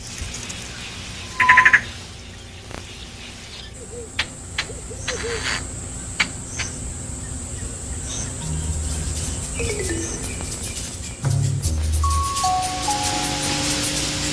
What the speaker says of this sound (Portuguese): Outro som bastante característico do Okavango é o do picanço